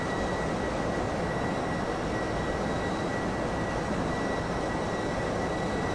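Flight Factor 757 airliner engines in the X-Plane 11 flight simulator produce a steady, broad roar with a faint high whine running through it, loud and constant from start to finish, with no talking.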